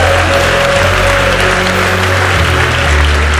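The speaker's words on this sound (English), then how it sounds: "One more round of applause for everybody" Loud, sustained applause fills the room for the teams at a university new-venture pitch championship, a thick continuous clatter of many hands with a low hum underneath.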